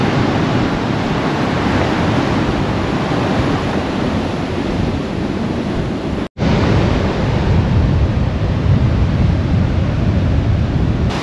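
Strong wind buffets the microphone at the Patapat Viaduct in Ilocos Norte as a loud, continuous roar with a brief cut partway through. There is no talking.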